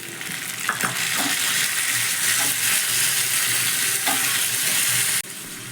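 Chopped tomato hits a pan of lightly fried onion and garlic, setting off a steady loud sizzle with scraping stirs and clinks running throughout, cut off abruptly near the end.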